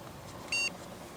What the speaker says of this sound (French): Vous avez eu 2 bips aigus.